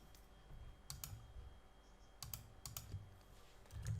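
Code being typed on a computer keyboard, with quick bursts of close, fairly quiet key clicks separated by short pauses, heard alone.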